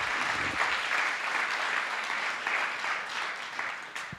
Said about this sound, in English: You got to clap for these people.